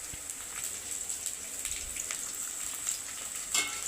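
Onions sautéing in a pan with curry leaves give a steady, soft sizzle with light crackles throughout, fairly quiet and even, with no talking.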